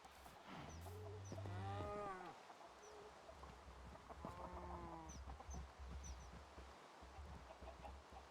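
Flock of chickens in the video game Minecraft, with a few soft clucks and bawks over a faint background, quiet and intermittent.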